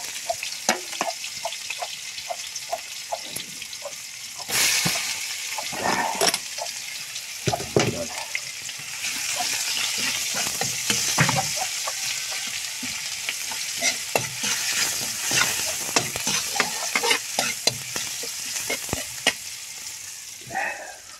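Garlic and onion sauté in a pan for ampalaya with egg, a bright sizzle broken by frequent scraping stirs and bursts of louder crackling, with a little speech underneath.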